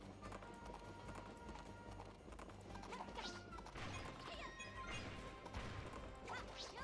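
Horse hooves clatter in a galloping run during a horse-riding section of the Princess Peach Showtime video game, steady clip-clop beats under busy game music with occasional crashes and whooshes.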